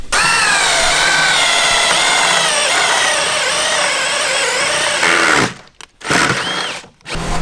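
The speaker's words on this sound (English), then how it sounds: "we might have to do some drilling" A power drill drilling holes in a car panel whines steadily and loudly for about five seconds, then a few short bursts follow with brief pauses between them.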